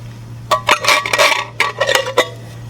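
Canned cut green beans are tipped out of the can into a salad bowl with a few loud, close clattering knocks and scrapes of metal against the bowl.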